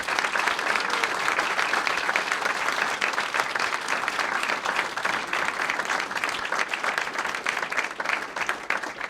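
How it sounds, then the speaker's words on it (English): Sustained audience applause for Court of Honor inductees at a 2018 induction ceremony: dense, steady clapping from a large crowd that stays loud and even from start to finish, with no voices on top. "Can we have one more round of applause for our Court of Honor inductees?"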